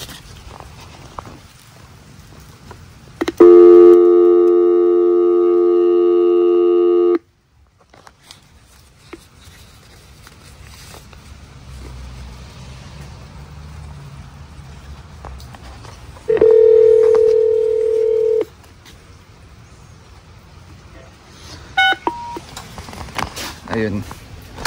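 Two electronic apartment intercom buzzer tones sound in separate bursts, each a steady buzzing chord held for a few seconds, with quiet street noise and footsteps between, in Canada.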